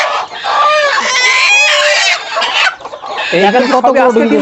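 Native chickens on a poultry farm cluck and squawk loudly and close by, a dense stretch of overlapping calls with a lower run of clucks near the end.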